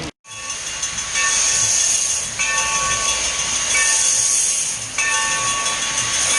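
A steam train passes on the tracks with a loud, continuous hiss and rumble of rolling cars that holds steady close by, with no voices.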